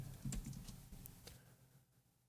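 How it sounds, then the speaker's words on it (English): A detective character types on a typewriter in a film scene: a quick run of sharp, separate key clicks up close, fairly quiet and tapering off, with no voices. "next shot, we have the detective typing on a typewriter."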